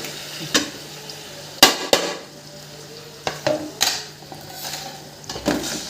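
Tomato and capsicum frying in a pan while a spoon stirs them, with loud clanks and scrapes against the metal at irregular intervals over a low, steady sizzle.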